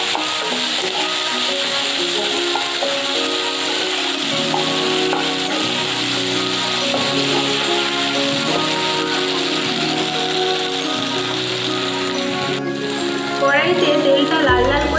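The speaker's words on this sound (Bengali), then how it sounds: "দিয়ে ভালো করে নাড়িয়ে তেলটাকে ভেজে নেব" Oil sizzling in a wok with chopped tomato added, a loud continuous frying hiss throughout, with background music underneath and a sharper burst of sizzling near the end.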